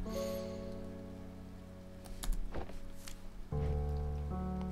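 Rain falls in the video game A Bird Story, a soft steady patter beneath sustained musical tones, with a brief louder splash midway.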